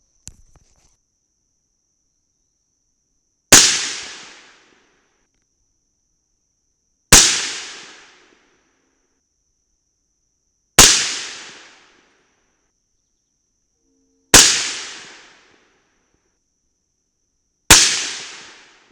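Five sharp, loud rifle shots from a 300 Blackout with a 10.5-inch barrel firing 125-grain Sierra Tipped MatchKing rounds, spaced several seconds apart, each a crisp crack with a fast-decaying tail over near silence.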